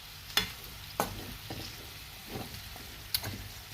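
Onion, pepper and garlic frying in oil with spices, a soft sizzle broken by several sharp clinks and scrapes of a utensil stirring the pan at irregular intervals.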